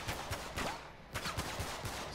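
Video game gunfire in Uncharted 3 comes as a string of quick shots and bursts, some from a machine gunner, with moderate loudness and no talking.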